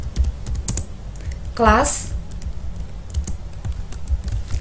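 Computer keyboard typing Java code into Notepad, with scattered key clicks throughout and a brief burst of speech partway through.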